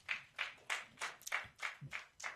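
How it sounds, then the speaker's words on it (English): A few hands clapping at a conference, distinct claps in an even rhythm, faint and sparse, without voices. "Please, a round of applause for him"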